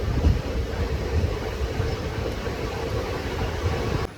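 A passenger train pulls into Angadipuram railway station on the Nilambur route, a steady low rumble of rolling wheels and carriages filling the scene at moderate loudness, with faint wind noise and no talking.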